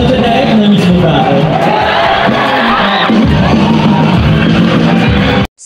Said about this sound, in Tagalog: Maririnig ang sigawan ng mga tao.